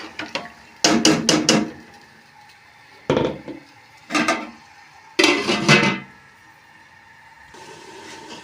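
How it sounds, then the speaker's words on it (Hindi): Black chickpeas being roasted and stirred in a pot, a few short scraping, clattering bursts of utensil against metal with quiet gaps between, close and alone. "अब हम चने जो हैं 10-15 मिनट तक जो है वो हम इनको भूनेंगे।"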